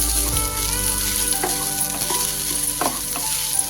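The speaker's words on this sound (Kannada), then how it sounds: "ಒಂದು 2 ನಿಮಿಷ ತೆಂಗಿನಕಾಯಿ ಹಾಕಿ 1-2 ನಿಮಿಷ ಫ್ರೈ ಮಾಡ್ಕೊಳ್ಬೇಕು" Grated coconut frying in a pan gives a steady sizzle and crackle, punctuated by a few scraping stirs of a utensil against the pan, close and moderately loud with no speech.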